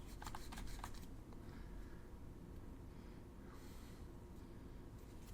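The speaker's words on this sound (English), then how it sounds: "Shuffle them together." Arkham Horror playing cards shuffled together on a tabletop, a quick burst of riffling flutters near the start followed by softer sliding and rustling, close and moderately quiet with no talk.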